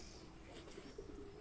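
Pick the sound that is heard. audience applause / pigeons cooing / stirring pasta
pigeons cooing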